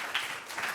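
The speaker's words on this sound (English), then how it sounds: "A big applause to our speakers" An audience applauds the speakers at the close of a panel discussion in a hall, a short burst of dense clapping at moderate level.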